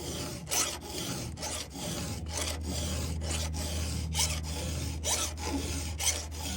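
Hand filing a square-ground chainsaw chain: steady, close rasping file strokes repeat about every half second, each a short gritty scrape over a low background hum, with no talking.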